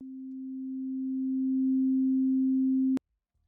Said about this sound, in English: I'll sample the sine wave to begin with.